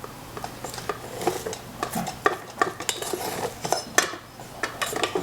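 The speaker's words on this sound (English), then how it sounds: "our rice is done. So we're just gonna give it a quick fluff." Cooked rice being fluffed in a pot, a run of soft scraping and clinking strokes of a utensil against the pot, close and irregular.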